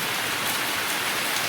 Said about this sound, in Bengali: চলো দেখাই তোমাদেরকে বাইরে কীরকম বৃষ্টি হচ্ছে